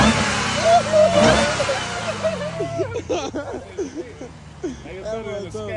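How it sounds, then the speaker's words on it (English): A Jeep Grand Cherokee Trackhawk with a supercharger revs up, its engine note climbing and falling in a rising, whining sweep close by, while several people talk over and after it. "We gotta get a rev real quick. Gotta hear the wine."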